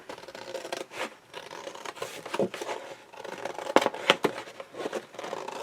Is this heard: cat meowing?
no